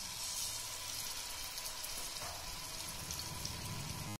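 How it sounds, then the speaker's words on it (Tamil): Marinated fish frying in hot oil in a pan, a steady crackling sizzle holding evenly throughout with no voices. "அதுல வந்து நம்ம மேரினேட் பண்ணி வச்சிருக்க மீன் வந்து சேர்த்துக்கலாம்."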